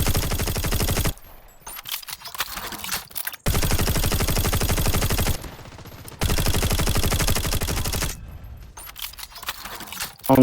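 Rapid automatic gunfire from a battle royale shooter, fired in long sustained bursts separated by short pauses, loud and close, with no voices.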